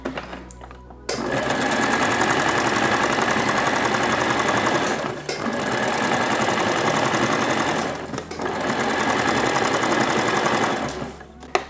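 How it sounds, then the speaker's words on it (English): Sewing machine stitching along the edge of a homemade jacket, a steady close-up whirr running continuously with two brief dips where the fabric is repositioned before it resumes. "I'm going to do another stitch for the edge"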